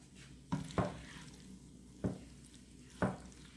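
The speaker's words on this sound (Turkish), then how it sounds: "Bir demet dereotumu, hepsini birlikte güzelce karıştırıyorum." A cheese and dill filling is stirred in a bowl, four soft close thumps and scrapes at an uneven pace over a quiet room background.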